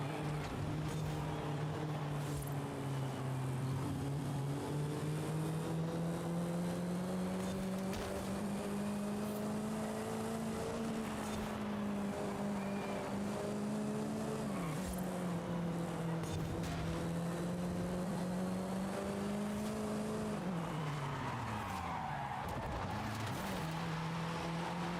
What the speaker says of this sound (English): this rear-wheel drive car is not my best